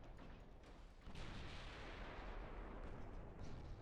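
Naval gunfire booms in the video game Ultimate Admiral Dreadnoughts as warships trade fire, a faint, dense rumble of repeated cannon blasts growing heavier partway through, with no voices.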